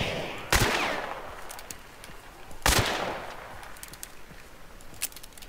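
Two loud, sharp gunshots about two seconds apart in the Hunt: Showdown video game, each trailing off in a long reverberant echo, with a fainter pop near the end.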